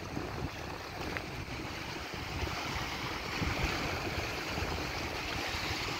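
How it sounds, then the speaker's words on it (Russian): Autumn wind off the Black Sea coast in Odesa blows in a steady, rushing wash, with faint waves and gusts buffeting the microphone throughout. "здесь такой ветер прям морской, знаете, уже такой осенний."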